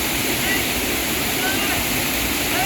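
A loud waterfall roars as a continuous wash of rushing water, steady and close, filling the whole span with no pauses.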